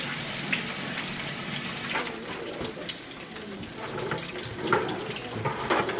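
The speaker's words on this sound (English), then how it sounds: "Let me rinse my hands off quick." Water from a kitchen tap runs steadily as hands are rinsed beneath it, a close, continuous splashing hiss with small irregular spatters and no voices.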